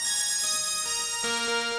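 An 80s-style synth patch called Emo Sign from the Arturia CMI V plugin, playing bright, sustained bell-like tones that step through a few pitches over roughly two seconds, clean and with no voices.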